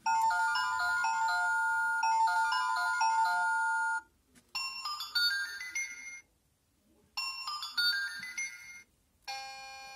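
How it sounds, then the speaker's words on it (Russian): A toy musical telephone plays its ringtone, a bright, beeping electronic melody that repeats in short bursts separated by brief silences. "Это звук звонка."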